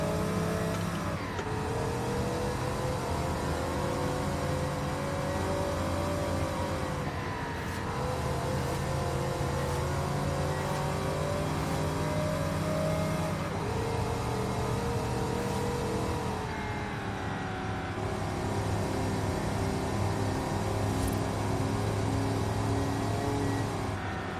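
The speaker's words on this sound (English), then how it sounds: "this truck is indestructible. I mean, it runs through anything." Ford F-250 Lariat Super Duty truck in Forza Horizon 5 driving off-road, its engine droning steadily and loudly throughout with shifting revs and no talk.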